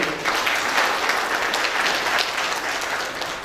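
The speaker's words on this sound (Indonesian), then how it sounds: "Tepuk tangan untuk Pak Ferry." An audience at a municipal civil-service police training ceremony applauds Pak Ferry, a dense, steady wash of clapping from many hands that holds evenly for a few seconds, with no speech over it.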